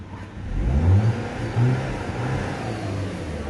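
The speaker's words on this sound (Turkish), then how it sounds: "Yerinde gazı falan iyice köklüyoruz" An Audi A5 with a 2.0 TFSI engine being revved in place after a spark plug fault was fixed. It gives two strong throttle blips over a low idling hum, close by and without talk.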